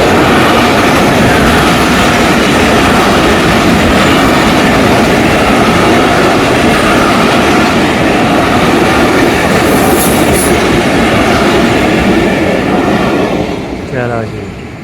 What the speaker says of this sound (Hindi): ये फाटक बंद है, रेलगाड़ी आने वाली है